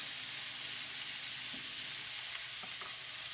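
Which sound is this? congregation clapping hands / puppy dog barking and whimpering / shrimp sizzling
shrimp sizzling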